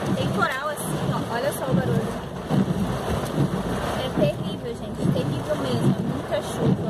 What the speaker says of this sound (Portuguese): olha o temporal que tá. Tá um temporal muito doido.